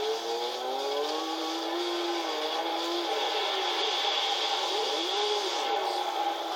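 An Audi Quattro S1 rally car in the Gran Turismo 6 racing game screams along with a high, continuous engine note that climbs and dips through gear changes and throttle lifts while drifting, loud and unbroken.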